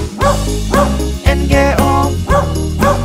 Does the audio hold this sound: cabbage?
no